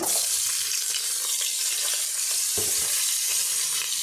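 Panch phoron and dried red chillies crackle and sizzle hard in hot fish oil, a dense, loud, continuous frying hiss with occasional spitting pops.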